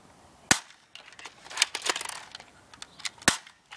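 An M41 gel blaster toy gun fires a few sharp, snappy cracks, separated by quieter clicks and rattles of handling in between.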